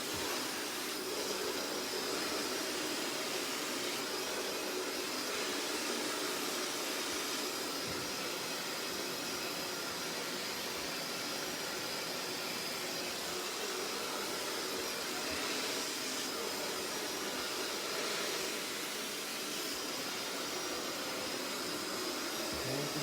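Hair dryer blowing during a blow dry after a graduated bob haircut in a salon, a steady broadband whoosh that holds at an even level for the whole stretch with no talking.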